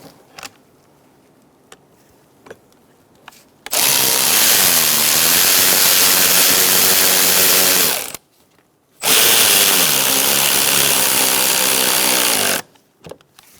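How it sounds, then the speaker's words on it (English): A power tool tightens the hose clamp on the air filter intake of a 2002–2006 Toyota Camry. It gives two sustained, loud whirring bursts of several seconds each, separated by a short pause, with quiet clicks and handling sounds before them. "And now we're going to tighten down our hose clamp."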